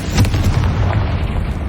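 A loud, booming fire-spell blast from Hogwarts Legacy, a dense low rumble that fills the whole short moment with no voice over it.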